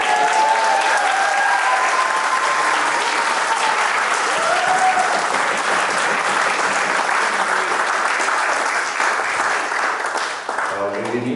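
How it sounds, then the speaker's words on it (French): Guests at a French wedding ceremony applaud the couple after their vows, loud sustained clapping from the whole gathering with a few voices and cheers mixed in, tapering slightly near the end. "On peut les applaudir."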